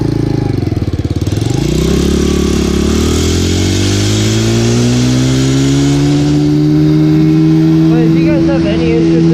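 A powerful motorcycle climbs uphill at about 45 mph on a rainy ride, its engine tone rising and holding strong under close wind rush.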